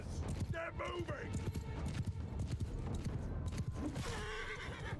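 Horses galloping in a Mount & Blade II: Bannerlord battle, rapid hoofbeats and a whinny amid the clatter of cavalry fighting, with someone talking over the din throughout.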